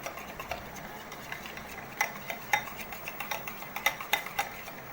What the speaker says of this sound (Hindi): हम इसे अच्छे से मिक्स करेंगे।